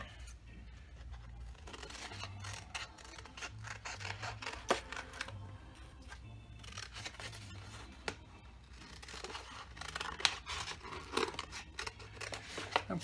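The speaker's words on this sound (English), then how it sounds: "I'm cutting inside of my pencil line because I don't want it to show." Scissors snipping through a paper plate during a craft, a steady run of close crisp cuts and crunches with brief pauses, no talking.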